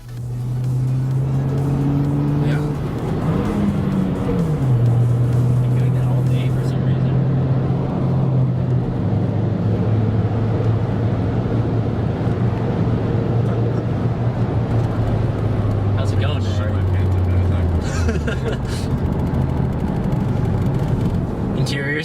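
A 2009 Mazdaspeed 3 driving on the road, with a steady engine drone and tire roar that rises and falls as it slows under braking, heard from inside the cabin while a person talks over it.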